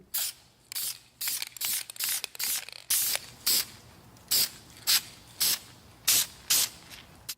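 Second light coat of spray paint going onto brake calipers: a run of about fourteen short aerosol hisses in a steady rhythm, close and fairly loud, with brief quiet gaps between bursts.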